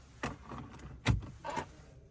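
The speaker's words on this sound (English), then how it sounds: "take the key out." An ignition key being pulled from the ignition of an Audi, giving a few brief metallic key jangles and clicks close up in a quiet car interior.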